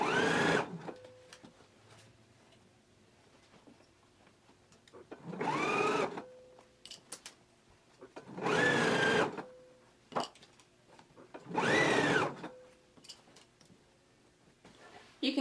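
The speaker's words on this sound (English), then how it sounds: "then we can take it to the machine and stitch it down at a 5/8 of an inch seam allowance." A sewing machine stitches a shirt sleeve seam at a 5/8 inch allowance in four short bursts of fast whirring, about a second each, separated by quiet pauses with faint clicks.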